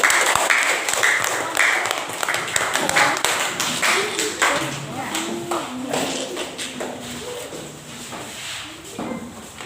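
A classroom of students claps together, a dense burst of many hands that thins into scattered claps, with children's voices murmuring underneath.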